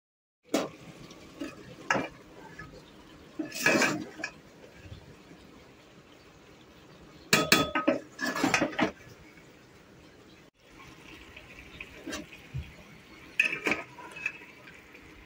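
A pot of khichdi being covered on the stove, with intermittent clanks and scrapes of metal utensils and a lid in bursts over a faint steady cooking hiss, close and moderately loud.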